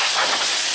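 A handheld pocket air blower blasts sawdust out of a scroll-saw cutout, a brief, loud, steady rushing hiss of air.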